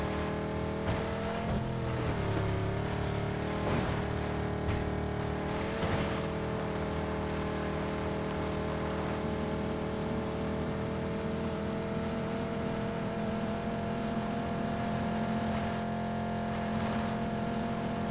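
A car driven in a third-person video game, its engine droning steadily with rising and falling revs throughout, loud and continuous with no talking.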